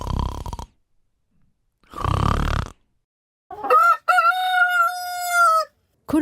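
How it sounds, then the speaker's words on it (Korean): A rooster crows in a long, loud, clear call near the end, preceded by a couple of short grunting bursts, with silence between. "코를 골며 세상 모르고 잠이 든 강쇠가 첫딱 울음소리에 놀라 잠에서 깨어 주위를 살펴보았어요."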